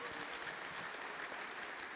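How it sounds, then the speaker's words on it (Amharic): A congregation at an Ethiopian church service claps together in sustained, dense applause that sounds faint and distant. "እስቲ ለጌታ አዘው እንዳላችሁ በኃይል አጨብጭቡ"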